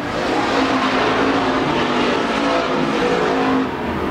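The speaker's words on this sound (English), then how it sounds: "He's got a lot of smoke coming out of it as he's being followed by the 44S car of Steve Schumacher" Pure stock race cars at Central Arizona Speedway dirt track, a dense continuous engine roar from several cars racing together, loud and sustained with no talk.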